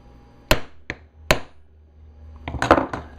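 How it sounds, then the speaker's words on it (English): A hammer strikes a hollow punch into clamshell plastic: sharp close blows and a lighter tap, then a quick cluster of strikes, with no talk. "just put it where you want it and whack it with the hammer"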